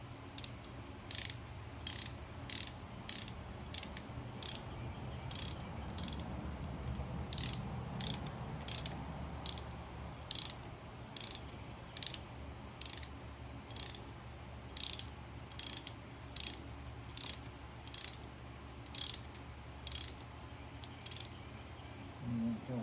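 A ratchet wrench clicks steadily as bolts are tightened down, each crisp click evenly spaced over a low background hum, close and fairly quiet.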